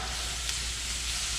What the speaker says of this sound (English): you want to hear that sizzle as soon as you put it in the pan